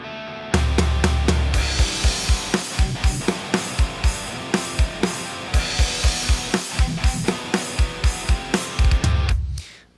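A draft rock/metal song plays with thick distorted guitars and punchy, evenly spaced drum hits driving a steady beat. The mix is loud and dense and ends abruptly.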